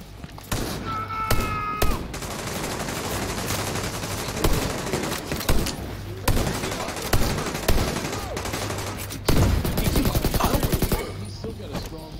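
Rapid gunfire from The Division 2 video game, loud bursts of automatic shots and single cracks repeating across the scene, with thuds in between and a brief electronic tone early on.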